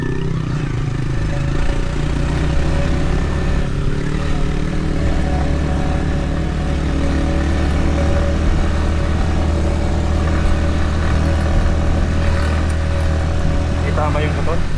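Motorcycle engine running steadily on a campsite-hopping ride in Quezon, Philippines, a constant loud rumbling drone with wind and road noise, and people talking over it at times.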